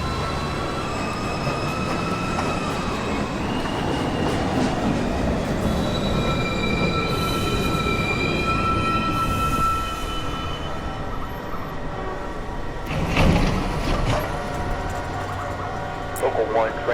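A local 1 subway train pulls into a station with rolling wheel noise, rising squeals and rattling cars, while a recorded platform announcement plays over the din.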